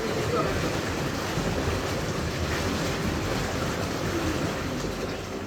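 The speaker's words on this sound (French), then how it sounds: "Et le dernier, c'est les bulles blower. Ça va mettre tout seul parce qu'il est super fort. Il y a beaucoup de bulles." A powerful spa hot tub bubble blower churns steadily, producing a loud, dense, constant rushing and bubbling roar with no breaks.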